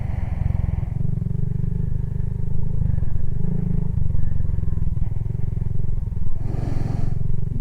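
A motorcycle ridden through a downtown area, its engine a steady loud drone with rising and falling revs and some clattering, heard close throughout.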